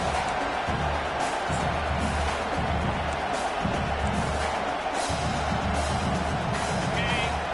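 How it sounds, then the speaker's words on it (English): A stadium crowd in the College Football 25 video game roars during a fourth-down stand, a dense, steady wash of cheering noise at constant loudness throughout. "This crowd busting the decibel meter and trying to will a 4th down stop."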